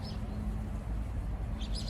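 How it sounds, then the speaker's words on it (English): A few brief, faint bird chirps come at the start and again near the end, over a steady low rumble. "Oh, that's a bird chirping."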